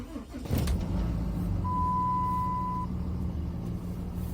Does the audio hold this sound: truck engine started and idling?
yes